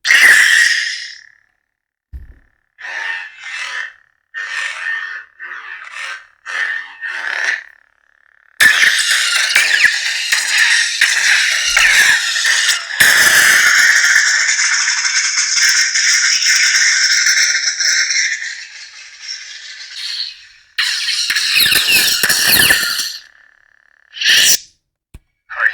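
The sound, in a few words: lightsaber sound effects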